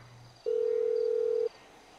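A phone call ringing tone in the video game GTA V sounds as a single steady electronic beep lasting about a second, clear and moderately loud over quiet background.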